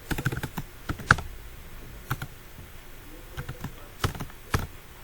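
Typing on a computer keyboard while writing PHP code, bursts of quick close key clicks broken by short pauses, with no talking.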